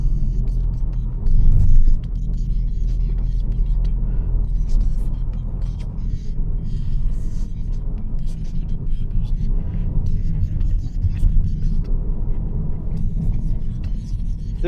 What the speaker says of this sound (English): I think these burbles on the exhaust are prettier and more pleasing to the ear